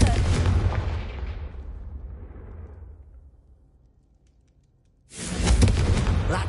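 A Confringo fire explosion spell in a video game bursts loud and broad, then fades over a few seconds before a second heavy blast erupts near the end, with no talk over it.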